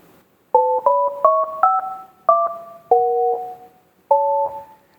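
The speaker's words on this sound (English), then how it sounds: "Can't we have the 7 notes on the phone when you know the sound?" Seven touch-tone dial beeps for a hotline number, each a clear two-tone note, playing in a steady stepped sequence with a short pause before the final tone, close and clean with no talking.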